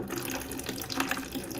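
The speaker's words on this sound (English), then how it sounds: "the first thing I want to do is pour out and just see what the liquid looks like" Madder dye liquid that has soaked for two months pours steadily out of a bucket, a continuous splashing, gurgling stream heard close up with no talking.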